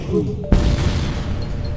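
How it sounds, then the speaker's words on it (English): Dual laser weapons fire in the spaceship strategy game FTL, a sharp booming impact under a steady game hum with a faint tone, while a voice talks over it. "Dual laser. Keep firing on that."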